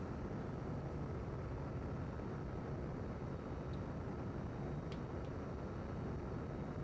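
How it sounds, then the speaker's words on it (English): Jet afterburners in the Amiga game F/A-18 Interceptor, a constant low roaring rumble that holds steady throughout, with a couple of faint brief clicks near the end. "Afterburners."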